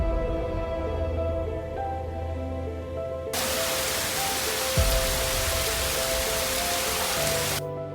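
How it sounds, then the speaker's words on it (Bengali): Steady rain pours down near a century-old temple surrounded by forest in Birbhum, West Bengal, a broad hiss that swells sharply louder partway through and stays dense and close, with a faint low thump in the middle. "তো দেখতে পাচ্ছ এখানে বৃষ্টি পড়তে শুরু হয়ে গেছে।"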